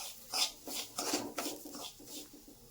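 Bombay rava (semolina) roasting in ghee in a pan, with a spoon scraping and rasping across the pan bottom in short, irregular strokes, close and clear, with no talking.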